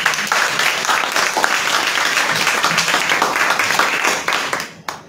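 Audience applause fills a literature talk event, a dense, steady clapping from a crowd that holds for several seconds and then tapers off quickly at the end.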